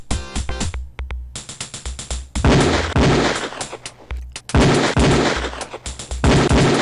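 Beretta pistol shots at a firing range in Police Quest 4, a run of loud, sharp single reports fired in quick succession with brief gaps, crisp and close.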